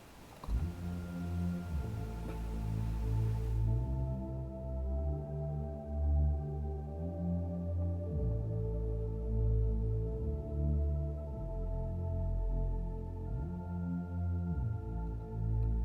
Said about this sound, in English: But the two without the keys, just the Reese and this, sounds like this.